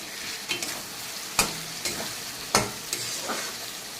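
Fried potatoes are stirred into tomato masala in a wok over a low sizzle, with a few sharp spatula scrapes and clacks spaced irregularly, close-up and without talking.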